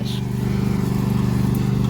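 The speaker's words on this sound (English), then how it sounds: "The lawnmower has some torque, don't it?" Lawn mower engine dragging pumpkins, a steady, loud, close motor drone with a rhythmic pulsing throb that holds throughout without pause.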